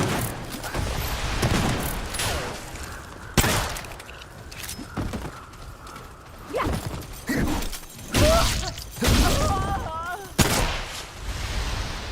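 Sharp gunshots and heavy booming bursts ring out in the Remnant 2 video game, loud and irregular across the scene, with scattered shattering impacts and occasional voices.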